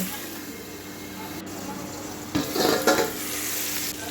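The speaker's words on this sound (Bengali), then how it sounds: "বাকি সবজিগুলো ভেজে নেব পেঁপে আর আলু লবণ দিয়ে ভেজে নেব" Papaya and potato frying with salt in a pan: a constant sizzling hiss, with a burst of stirring and scraping partway through, close and fairly loud, no speech.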